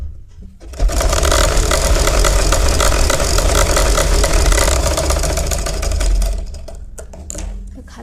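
A sewing machine runs in a fast, continuous stitching burst while sewing a straight seam on a baby cap, then slows and stops, leaving a few faint clicks.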